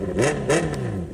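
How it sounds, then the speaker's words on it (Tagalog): A Honda CBR650R motorcycle full-system exhaust without dB killer revs in short blips, raw and loud, the engine pitch climbing and falling twice in about a second. "Ito naman walang DB killer."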